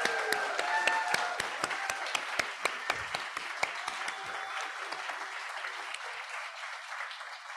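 An audience at a poetry reading gives a round of applause, with dense clapping that is loud at first and then thins out and fades toward the end.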